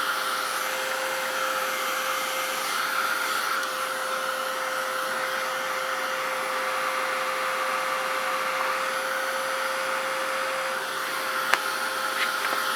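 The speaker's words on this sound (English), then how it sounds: "So I'm just gonna take my heat gun to these." A heat gun blows steadily on gel medium and gloss glazing liquid, a constant close whooshing roar with a thin tonal whine, unbroken for about thirteen seconds apart from one sharp tick near the end.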